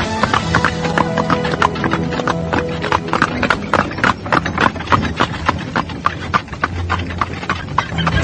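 Horse hooves clip-clop steadily as a horse-drawn cart travels in an Indonesian radio drama, a close, rapid and continuous rhythm of hoofbeats with faint background texture and no speech over it.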